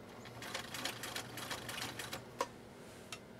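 A rare 1.0 amp Viking Husqvarna Type Class 8E rotary sewing machine stitches in a short run. Its rapid, close mechanical clatter fills a few seconds and ends with a couple of sharp clicks.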